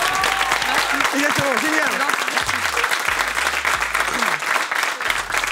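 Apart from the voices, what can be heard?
audience applause on a talk show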